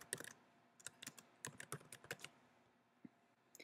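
Typing on a computer keyboard to enter review comments in software, a quick flurry of soft clicking keystrokes followed by a few scattered taps, close but quiet.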